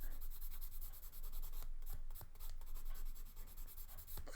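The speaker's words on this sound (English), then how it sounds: "just a quick swipe over with the sanding stick" Quiet, close rubbing and scratching strokes of a sanding stick on a small plastic part of a 1/35 scale Sherman tank model, repeated back and forth without any talking.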